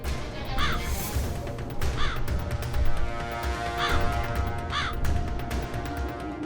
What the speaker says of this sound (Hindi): काक, मेरे वाहन,